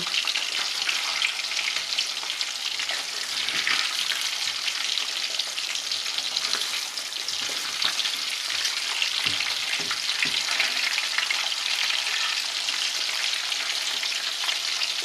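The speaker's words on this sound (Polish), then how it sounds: "będę smażyć je już teraz bardzo krótko, nie dłużej niż pół minuty" Salmon fillets sizzle loudly in a hot pan, a constant crackling hiss of frying oil that runs without a break.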